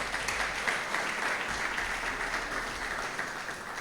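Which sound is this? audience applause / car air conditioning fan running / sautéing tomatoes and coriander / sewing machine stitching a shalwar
audience applause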